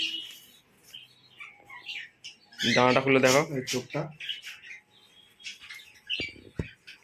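Lively, aggressive pigeons being handled for sale, with a burst of agitated calling and squawks, close and loud for about a second amid rustling, plus a couple of sharp knocks near the end; people talk throughout.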